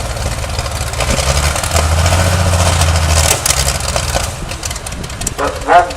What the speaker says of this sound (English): But one bank is distinctly misfiring